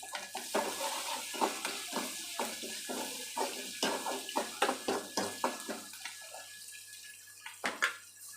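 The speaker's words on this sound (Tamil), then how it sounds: "கட் பண்ணி வச்சிருக்கிற ஒரு கைப்பிடி வெங்காயம் சேர்த்துட்டு இதை நல்லா வணக்கிக்கலாம்" Chopped onions sautéing in a pan are stirred in a quick rhythmic series of scraping, clattering strokes over a low sizzle, close and fairly loud.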